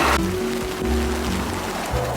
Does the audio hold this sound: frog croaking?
no